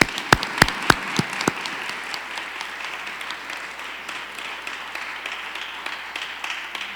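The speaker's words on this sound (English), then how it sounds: "Let's give them a round of applause one more time." Audience applause at a Pride event in the Central Library, beginning with a few sharp, loud claps and settling into steady, moderately dense clapping from a medium-sized crowd indoors.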